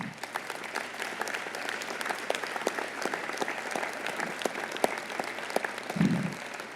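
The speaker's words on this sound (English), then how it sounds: "Please stand for a round of applause." An audience at Reno's 2017 State of the City address stands and applauds, giving a continuous even crowd clapping that holds steady throughout, with a soft low thump near the end.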